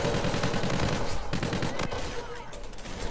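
Gunfire from Call of Duty: Infinite Warfare, a steady run of rapid shots and bursts that fills the whole stretch and thins slightly toward the end, with a faint voice underneath.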